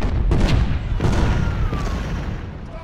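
A battery of ten cannons fires in the Ultimate General: Civil War game, giving a few heavy booms in quick succession that fade into a rumbling decay.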